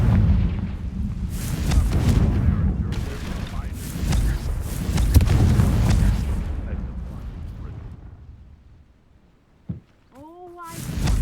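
Confringo explosive spells blast in the video game Hogwarts Legacy, a series of heavy rumbling booms that roll and fade over several seconds, then a sharp thud, with a voice speaking near the end.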